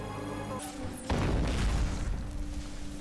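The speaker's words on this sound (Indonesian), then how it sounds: "Kebetulan tubuh Venkat dipenuhi dengan bom." A bomb strapped to a man's body explodes in a film scene: a sudden deep, roaring boom breaks in after a short rising whine, then rumbles on loudly and slowly fades.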